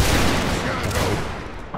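A musket volley fired on command in a Napoleonic linebattle game, a dense crackling fusillade of many shots blending into one loud, sustained roar that slowly fades.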